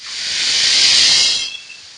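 Kitchen pressure cooker releasing steam, one loud, close, sharp hiss swelling over about a second and a half, then tapering off.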